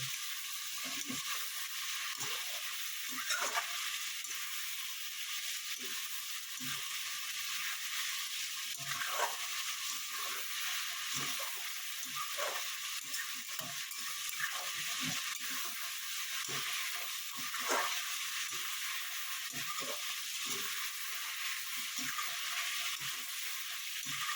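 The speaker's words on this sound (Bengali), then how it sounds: "এইভাবে ভালো মতো ভেজে নেবেন। 5 মিনিট ভাজলে হবে।" Steady close sizzling of food frying in a pan for chicken kosha and kopta polao, with scattered soft scraping and stirring clicks throughout and no talking.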